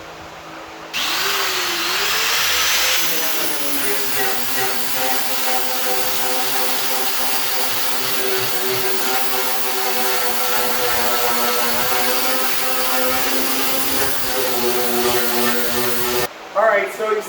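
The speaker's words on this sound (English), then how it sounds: "I was using a flat sanding disc and just sanding off the paint and primer off of the rear quarter" A flat sanding disc on a power tool grinds paint and primer off a car's rear quarter panel, a loud, steady whine that runs continuously for most of the stretch before cutting off near the end.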